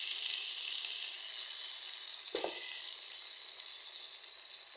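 Bitter gourd sautéed with garlic, onion and tomato sizzles in a pan with a soft, even hiss, interrupted once by a brief clatter of stirring.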